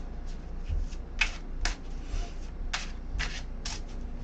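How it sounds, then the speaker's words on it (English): Tarot cards shuffled and drawn by hand, a string of short papery riffles and slaps in an uneven rhythm, close and fairly clear over a low room hum. "I'm going to pull a card."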